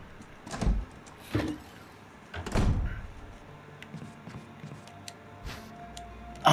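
Door opening in Resident Evil HD: a short run of heavy door thunks and knocks, several close impacts spaced out, followed by quieter rattling and faint clicks.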